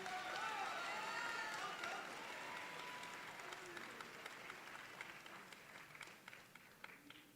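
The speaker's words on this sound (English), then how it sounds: "Give another round of applause, please." Audience applause at a middle school graduation ceremony, a dense wash of many hands clapping that starts loud and slowly thins out, with a few voices mixed in toward the end.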